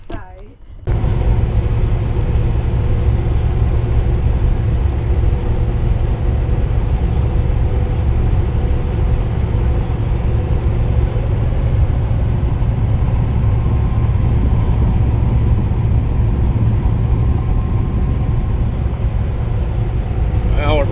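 A truck engine drones steadily while driving home after an emission-system repair at the shop, with a loud, continuous low rumble and road noise throughout, broken only by a brief quiet moment at the start.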